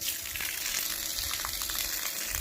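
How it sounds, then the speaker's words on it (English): Pump on a boat discharging a heavy stream of water, a steady broadband splashing rush that continues unbroken at moderate level with no talk. "Now that pump's kicking out water, and it's kicking out a lot of water."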